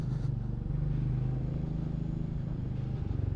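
A Royal Enfield Meteor 350 motorcycle runs with its 349cc air-cooled, fuel-injected single-cylinder engine, giving a steady low thudding throb. It is close and even throughout, with no talk.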